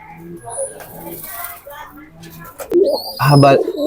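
A racing pigeon of the Tacloban Daybird line coos at close range, soft low murmurs building to a louder burst near the end, with other birds and voices in the background.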